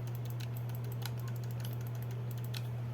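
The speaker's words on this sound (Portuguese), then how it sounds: "Seus botões aqui, cara, são botões mecânicos, então sim, isso aqui é como se fosse um clique de um mouse" A GameSir G7 Pro controller's mechanical buttons are pressed in quick, irregular bursts of crisp, mouse-like clicks. The clicks sound faint and close over a steady low electrical hum.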